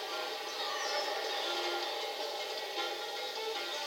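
In the Mario Kart 8 game, a subway train rushes past with a steady, bright metallic rumbling hiss that holds constant and fairly close throughout, with no voices.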